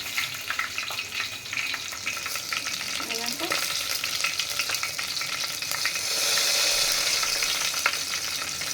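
Dried red chillies fry in hot oil with a steady, close crackling sizzle and occasional stirring scrapes, louder toward the end, with no talk.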